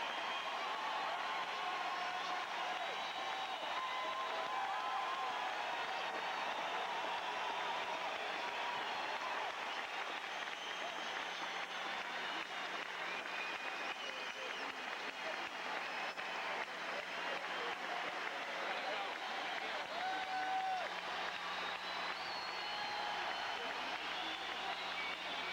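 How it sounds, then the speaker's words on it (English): A large arena crowd at a basketball jersey retirement ceremony in Los Angeles keeps up long, steady applause and cheering, dense and somewhat distant, without a break. "Johnson comes out to the center of the forum to acknowledge the love that this crowd in Los Angeles has for the gentleman who brought Magic to them"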